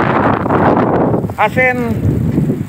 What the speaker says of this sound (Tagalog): Yan kita nyo yung hangin, lakas.